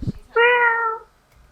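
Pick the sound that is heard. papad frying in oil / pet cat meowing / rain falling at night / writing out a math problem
pet cat meowing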